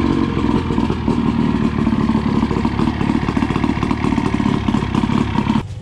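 A loud boat engine starts and runs steadily at idle, with a rough, clattering mechanical chug that continues without pause.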